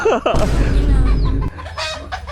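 Chickens cluck and squawk loudly at close range, several birds calling over a dense, noisy background that drops away near the end.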